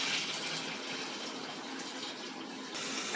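Clean water pours steadily into a Wonder Wash portable hand-crank washing machine inside an RV camper, a close, continuous gushing splash with no talking.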